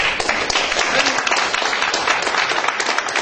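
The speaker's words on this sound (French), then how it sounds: "Sincèrement, ça mérite les acclamations." Applause from a crowd fills the whole stretch, a loud dense wash of clapping with a voice briefly audible beneath it.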